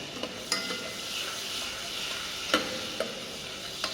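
Chicken pieces and vegetables sizzling in butter on the stove, a steady loud hiss close up, punctuated by a handful of sharp spatula taps against the pan as it is stirred.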